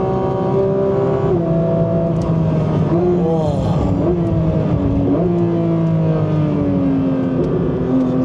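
A Porsche 911 GT3 engine pulls hard on a race track, a loud, close, continuous howl that climbs in pitch, dips briefly at gear changes, and keeps rising without a break.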